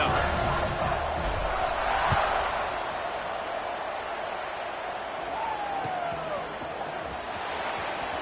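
A football stadium crowd fills the air with a steady, distant roar and murmur before kickoff, with scattered shouts, while a commentator talks over it.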